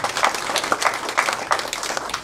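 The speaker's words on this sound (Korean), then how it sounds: "감사의 박수 부탁드립니다" Lively applause at a Bareun Party public forum in 2017 for the party's acting leader, close and fairly loud, with individual claps standing out in an uneven rhythm.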